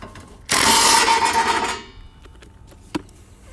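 Bolts are being removed from the skid plate of a Craftsman LT3000 lawn mower: one loud, harsh mechanical burst of about a second and a half, then a faint sharp click, with no talking.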